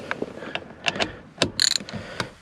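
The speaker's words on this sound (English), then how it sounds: "Then I'm going to take a ratchet with a 8mm" A hand ratchet with an 8mm socket loosens a bolt on an F150 SVT Lightning during a cruise control button repair: scattered light taps and handling noises, then a quick run of sharp, close ratcheting clicks.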